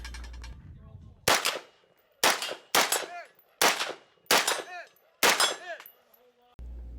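A KP-15 shotgun fires six loud, sharp blasts in an uneven rhythm during a shooting match, each shot followed by a ringing clang of steel targets, close and alone.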